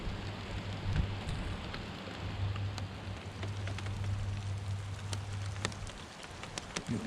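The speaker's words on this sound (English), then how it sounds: "Get a little bit more rain again." Rain patters steadily outside a parked truck during overnight camping by the water, a soft constant hiss of drops with a low hum underneath and occasional sharper taps.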